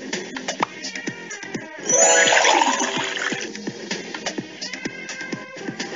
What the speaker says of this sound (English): Now add some vegetable oil in it.